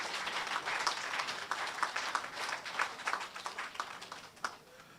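Applause from the audience at a grants presentation marking an entrepreneurship programme anniversary, faint and distant, with uneven clapping that rises and falls before trailing off.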